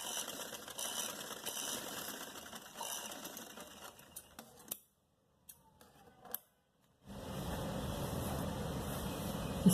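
A sewing machine stitching pleats on a narrow shalwar, a steady whirring run that stops for a couple of seconds, with small clicks, then starts again.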